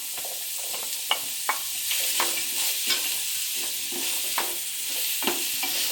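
Capsicum stir-fried in a pan for chicken egg noodles, with a steady close sizzle and repeated sharp scrapes and knocks of a spatula stirring through the pieces, no voices.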